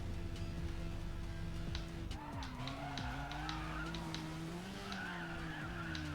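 Car drifting in the Racing Master game, tires squealing in long wavering screeches over a droning engine, with short clicks and skids scattered through.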